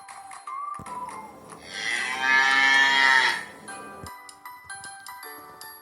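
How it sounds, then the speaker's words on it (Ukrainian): A cow lets out one long, loud, drawn-out moo close by, with faint beeping tones before and after. "Корова."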